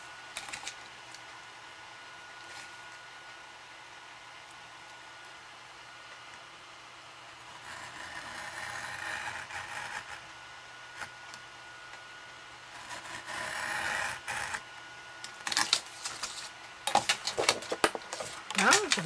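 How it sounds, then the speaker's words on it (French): A cutter knife scores cardboard to cut out a rectangle for a candle-holder box: two bursts of rasping scraping strokes, then a flurry of sharp clicks and taps close by. "On prend son cutter."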